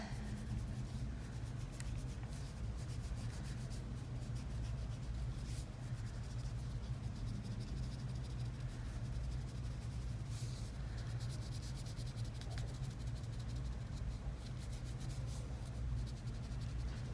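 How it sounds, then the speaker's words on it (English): Pencil lines being erased on a paper foldable, a steady soft rubbing and scrubbing, close and continuous but quiet, over a low background hum. "so now I can erase my little lines."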